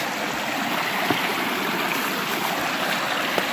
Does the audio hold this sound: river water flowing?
yes